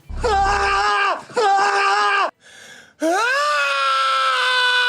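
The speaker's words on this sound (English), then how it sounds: "at least they found a good replacement candidate for the classic Wilhelm scream sound effect" Long, loud, wavering screams in three bursts, with a short gap of noise between, sounding like a dramatic shriek effect.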